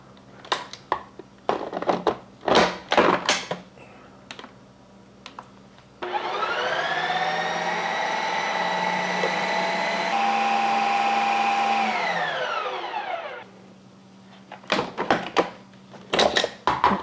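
A Ninja Creami Deluxe NC501 respins a lite ice cream pint in a generic container, a steady loud whirring motor drone lasting several seconds and then winding down, bracketed by clunks and knocks of handling.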